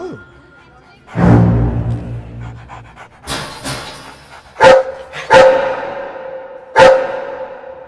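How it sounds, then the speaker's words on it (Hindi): A dog pants and gives a few sharp, separate barks, loud and close, with gaps between them and voices talking around the sounds. "ये तो कुत्ता है।"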